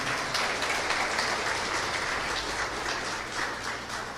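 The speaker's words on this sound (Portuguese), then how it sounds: "Aplauda Ele em nome de Jesus" A church congregation applauds during a Portuguese-language sermon, a steady, dense wash of clapping from a crowd that holds evenly throughout and fades slightly toward the end, with no speech over it.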